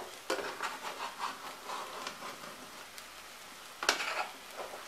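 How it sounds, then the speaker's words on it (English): A chorizo mixture is stirred in a frying pan, giving a soft sizzle with scraping utensil strokes against the pan, faint and close, plus a sharper clank near the end. "Give it a nice mix."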